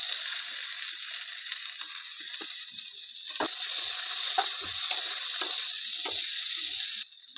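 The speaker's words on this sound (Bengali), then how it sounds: "কাঁচা লঙ্কা আর পেঁয়াজ কুচিগুলো তেলের মধ্যে দিয়ে দিচ্ছি" Green chillies and chopped onion go into hot oil with cumin, producing a steady sizzling hiss that swells louder midway, with scattered soft taps and clicks and no talking.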